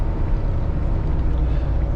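A truck driving toward a parking lot gives a steady, dense low rumble of engine and road noise, close and constant throughout with no clear voices.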